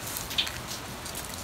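Sesame seeds being poured onto chiles, a soft steady patter of small grains, like light rain, with one brief brighter tick near the start.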